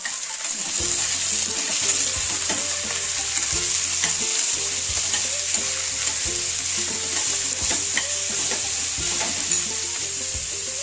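Chopped onions fry in a hot pan with salt, a dense, steady sizzle running throughout while a utensil stirs and scrapes in frequent soft knocks, close and fairly loud with no talking.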